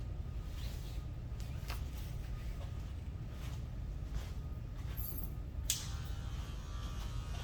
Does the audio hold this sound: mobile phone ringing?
no